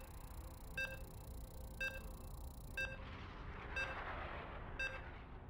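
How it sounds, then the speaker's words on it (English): Short electronic beeps from a video game lobby repeat about once per second, five in total, sharp and evenly spaced over a soft background hum that shifts to a hiss midway. "You can hear the beeps"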